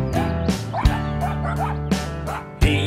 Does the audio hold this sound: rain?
no